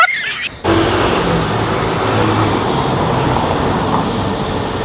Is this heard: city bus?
yes